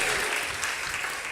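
A church congregation claps together during a Pentecostal sermon, a steady dense wash of applause filling the room from start to finish, with no voices standing out.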